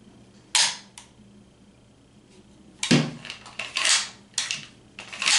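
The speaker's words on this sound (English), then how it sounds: "Mags shoot out pretty easily." A Taurus TX22 pistol handled on a bench, with a sharp metallic click, a pause of about two seconds, then a quick cluster of clacks and snaps as the magazine is released and ejected, close and fairly loud.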